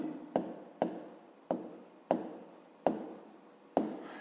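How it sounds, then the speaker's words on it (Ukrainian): Pen strokes writing numbers by hand on paper during a fifth-grade maths exercise, a series of about six sharp scratchy taps at irregular intervals, each fading quickly, close and quiet. "Ну, а тепер записуємо число"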